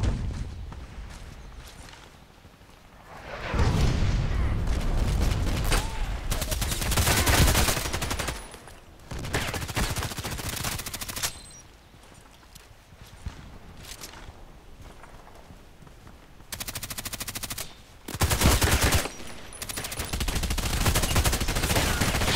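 Bursts of gunfire in a shooter game, repeated heavy volleys of shots with sniper-rifle and HK417 fire, loud and close, separated by quieter stretches.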